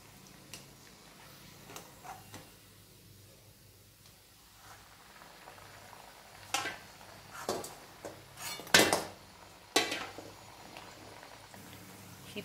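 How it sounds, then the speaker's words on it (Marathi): Puris fry in hot oil with a faint, steady bubbling sizzle. Occasional sharp clinks and pops stand out toward the end in a quiet kitchen. "या प्रकारे सर्व पुऱ्या तळून घ्यायच्या आहेत।"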